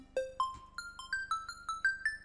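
Short plucked synth notes from square and sine wave layers at the same octave step upward in a quick melodic run, each a bright, ringing blip with clear harmonics, about a dozen notes over two seconds, fairly quiet.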